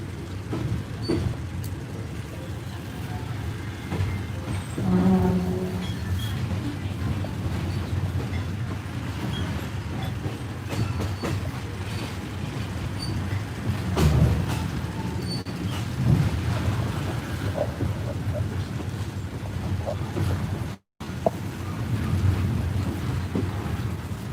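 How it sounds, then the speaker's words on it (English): A passenger train runs the rails from Bangkok toward Ayutthaya on a line to Ubon Ratchathani, giving a continuous low rumble with wind rush and occasional rattles and clunks, and a brief dropout near the end. "This train goes to Ubon Ratchathani"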